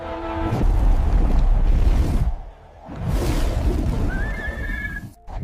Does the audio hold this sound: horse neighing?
yes